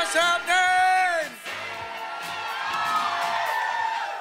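Crowd at a Minnesota Capitol rally cheering and whooping after a voice, with a sustained wash of cheers and shouts filling the space at fairly close range.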